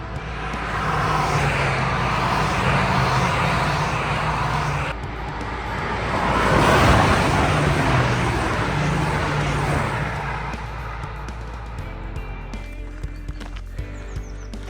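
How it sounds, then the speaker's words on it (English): Cars on the Nürburgring Nordschleife race circuit roar past, one engine swelling to a loud, broad rush at its nearest before fading, over a steady background of distant track noise. "We're going to start to see some industry pool cars coming along, which would be quite fun."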